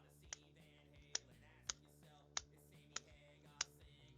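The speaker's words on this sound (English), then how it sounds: "Oh, there's like a spring in there. I can hear it clicking, and it jiggles a bit." Small spring clicking inside a Magic: The Gathering storage box as it is handled, six sharp separate clicks at roughly even intervals, close and distinct over a quiet low hum.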